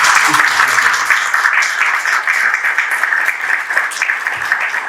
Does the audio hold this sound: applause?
yes